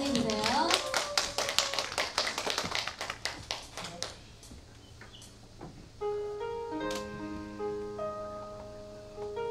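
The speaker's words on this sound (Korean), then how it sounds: "네, 여러분 이럴 때 큰 박수로 한번 다시 한번 환영해 주세요." Audience applause at a charity talent-donation concert in an arts center, a burst of sharp overlapping claps that fades as music with sustained tones begins.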